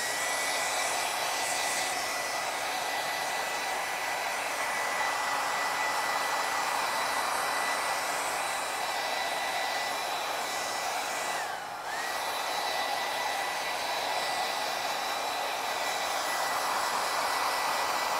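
A hair dryer blows steadily and close to dry green base coat paint on a pastel bunny painting, a constant airy whoosh that runs nearly the whole time with one very brief dip before resuming.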